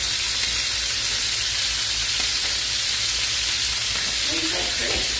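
Okra and fish sizzle loudly in hot oil in a pan, a dense, steady frying hiss filling the whole stretch, with voices briefly heard underneath.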